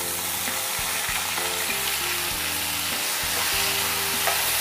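Ginger, garlic and tomatoes sauté in ghee for chicken biryani, a loud continuous sizzle and crackle close by with stirring, steady throughout and no voices.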